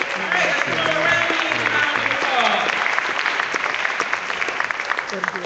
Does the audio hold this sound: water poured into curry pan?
no